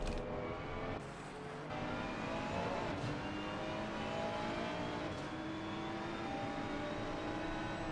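Onboard engine of a Ferrari race car in Assetto Corsa Competizione at Suzuka, a steady high-revving drone with rising and falling pitch through gear changes, loud and continuous with no talk.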